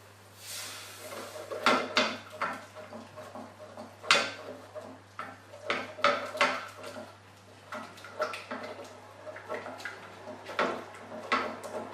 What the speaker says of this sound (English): We're now going to add our coconut milk, and you can add that in gradually and continue to stir again.